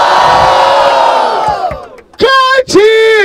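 A crowd at a Brazilian freestyle rap battle in Barueri roars and cheers loudly, a dense wash of voices that fades out, followed by a couple of shouted calls from individuals.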